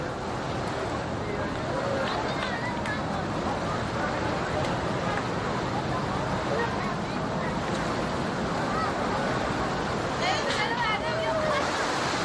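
Beside the river in Isfahan, a steady noisy bustle of indistinct crowd chatter mixes with flowing water and wind, a dense, even wash of background activity throughout.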